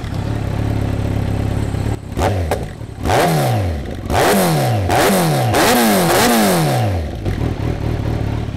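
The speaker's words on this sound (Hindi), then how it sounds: "ये एक्रा, और एक्रा विद डीबी क्लियर है, तो हम इसे एक्सपेक्ट करते हैं कि ये बहुत ज़्यादा लाउड नहीं होगा और बहुत ज़्यादा सूदिंग आवाज देगा" Kawasaki Z900 2023 BS6 motorcycle fitted with an Akrapovic exhaust and dB killer revs repeatedly, five or six loud throttle blips rising and falling over a steady idle, close by with no talking.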